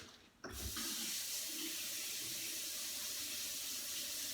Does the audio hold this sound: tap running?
yes